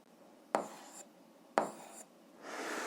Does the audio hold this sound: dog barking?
no